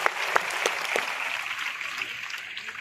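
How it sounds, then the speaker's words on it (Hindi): An audience claps in steady applause to welcome a Hindi comic poet on stage at a school centenary celebration, a dense sustained patter with a few sharper claps near the start, no voices over it. "एक बार आप भरपूर तालियां बजाकर स्वागत करें भाई सर्वेश अस्थाना।"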